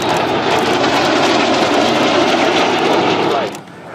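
North American F-100 Super Sabre jet with a J57 engine at the Thunder Over Michigan 2013 airshow, a loud, sustained roar that fades after about 3.5 seconds.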